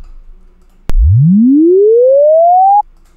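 A sharp click followed by a pure synthetic chirp tone with vibrato sweeping smoothly upward in pitch for about two seconds, then cutting off abruptly.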